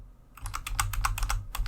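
A computer keyboard being typed on in a rapid, uneven run of crisp clicks, about a dozen presses close to the mic, with a brief pause partway through.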